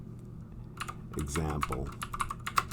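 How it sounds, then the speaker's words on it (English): Key clicks from a high-rise mechanical keyboard tap out in quick, irregular bursts at close range while someone talks over them. "Still can't get used to this keyboard, the really high-rise mechanical keyboard or keys."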